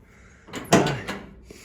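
The door of a 1970 Chevrolet, lacking weather stripping, swings and latches with a soft rattle, then a firmer thunk and a small trailing click, close and moderately quiet.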